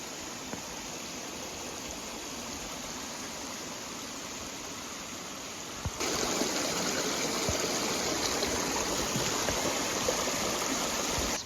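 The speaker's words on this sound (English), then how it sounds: "Must be the land of waterfalls." A mountain stream waterfall on a hiking trail rushes steadily and loudly up close, a constant broad roar that swells louder partway through.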